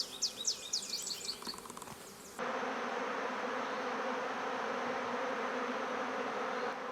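Honey bees robbing at a crowded hive entrance, a dense continuous buzzing swarm close by, with faint bird chirps at first before the buzzing swells and holds steady.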